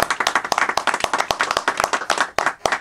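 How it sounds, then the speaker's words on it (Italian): A small group claps during a radio broadcast on Radio Padania Libera. Each individual hand clap is crisp and distinct, and the uneven clapping is close and moderately loud for a few seconds. "Un applauso."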